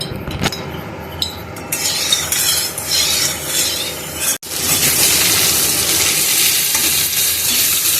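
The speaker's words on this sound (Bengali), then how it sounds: "তো এখন বাদামটা ভেজে নেব" Peanuts fry in a hot pan, a loud close steady sizzle with stirring and a few light clinks, briefly cut before the sizzle returns stronger.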